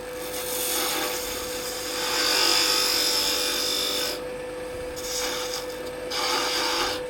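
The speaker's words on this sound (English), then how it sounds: "we're going to switch over at this point to a little 3/8 inch spindle gouge." Small 3/8 inch spindle gouge cutting wood on a lathe, a steady hissing scrape with a constant motor hum, rising and easing in several passes, close and alone without talk.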